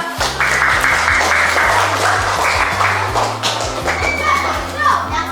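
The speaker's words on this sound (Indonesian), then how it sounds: "Tepuk tangan semuanya" Children in a fifth-grade Indonesian primary classroom clap together in a lively burst, mixed with chatter and shouting voices and a rhythmic low thumping beneath.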